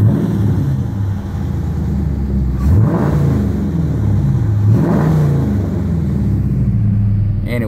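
Dodge Challenger R/T fitted with an AIRAID cold air intake, recorded from outside the car: a loud steady V8 idle rumble broken by two sharp revs that climb and fall back, with no voices.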